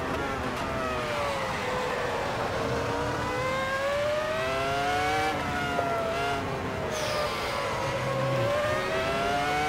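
Ferrari F2004 Formula 1 engine in the Assetto Corsa racing game at the Nürburgring GP circuit, a loud continuous high-revving V10 wail that rises and falls through gear changes, alone with no talk.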